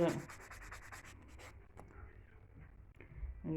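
A nail file rubs against a natural fingernail being shaped before resin and powder go on, making quick rhythmic scratchy strokes up close, then pausing into quieter scraping.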